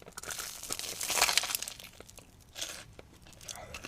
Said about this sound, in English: This one has the perfect crunch. I'm in love with the texture.